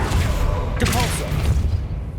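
Depulso spell cast in Hogwarts Legacy, a short thumping burst with a whooshing magical flourish, heard over a low rumbling game background.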